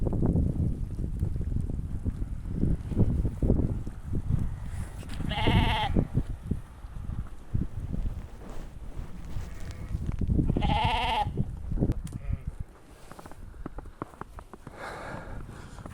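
Sheep from a village flock bleat several times, two loud calls standing out over a continuous rumbling wind or background noise outdoors.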